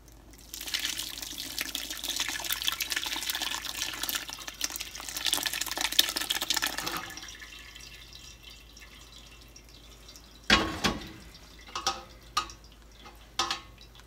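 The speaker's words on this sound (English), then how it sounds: "we're going to pour this very carefully through the muslin and let it drain" A steady rush of liquid poured through muslin while making rosemary garlic farmers cheese continues for several seconds, then gives way to a quieter trickle with scattered drips.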